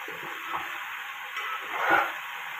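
Okra cooking in hot oil in a pan with tomato pieces just added, giving a steady close sizzle with a couple of soft stirring scrapes, no voices.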